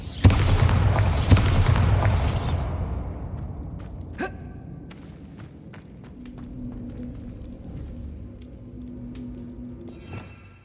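A Bombarda explosion spell in Hogwarts Legacy goes off as a loud blast with heavy rumble over the first two seconds, then fades into a quieter ambient tail punctuated by a few sharp clicks and a late burst.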